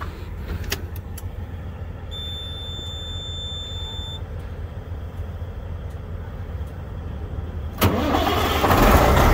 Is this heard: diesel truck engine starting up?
yes